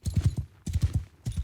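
Hoof beats of a donkey in Mount & Blade II Bannerlord, two short groups of close clip-clop steps in a quick rhythm, heard alone.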